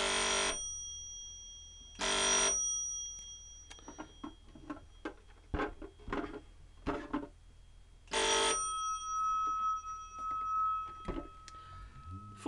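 A vintage Bakelite telephone's original bell coils, powered at 4 volts from a tattoo machine clipcord and foot pedal, ring in three loud brassy bursts, with scattered mechanical clicks and taps between rings.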